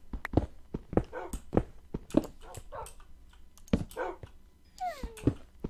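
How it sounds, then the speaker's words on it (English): Dogs indoors give short, sharp barks in quick repeated bursts with a few whimpering, whining cries toward the end, close and moderately loud. "can hear my dogs."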